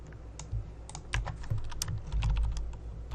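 Computer keyboard keys click and tap during work in Adobe Illustrator, a quiet, close, irregular run of light presses with a few slightly louder strokes and no speech.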